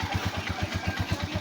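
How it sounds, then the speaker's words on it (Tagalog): A Honda TMX motorcycle engine catches on one click with a LiFePO4 battery and settles into a quick, even putter at idle, close by and moderately loud. "one click lang sa motor ni sir"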